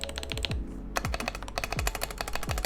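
Keys typed on an Epomaker TH96 plastic keyboard with slightly ticky stabilizers: a fast, close run of crisp clacks with a brief pause, each press sharp and distinct.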